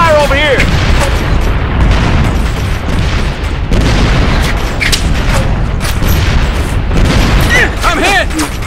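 Video game combat from Operation Flashpoint: Red River, with rapid rifle gunfire and booming shots in a steady, loud battle din mixed with voices and radio chatter.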